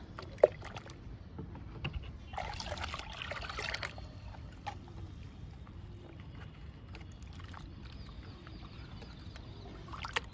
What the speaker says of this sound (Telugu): ఈ గిన్నె బియ్యం పిండిని 10 లీటర్ల వాటర్లో కలిపేస్తున్నాను.